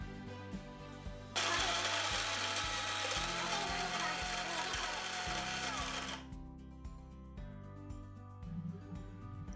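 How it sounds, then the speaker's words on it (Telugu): Mixer grinder grinding coconut into paste for coconut rasam runs loud in a kitchen for about five seconds, with a whirring motor hum before and after it. "ఇది ఇంకొంచెం గ్రైండ్ కావాలండి"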